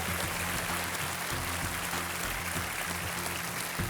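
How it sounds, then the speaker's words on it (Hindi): Applause from a studio audience welcoming a father-and-daughter pair of contestants on the Indian quiz show Kaun Banega Crorepati, steady and dense for the whole stretch, with no talking over it. "आइए तालियों के साथ इनका स्वागत"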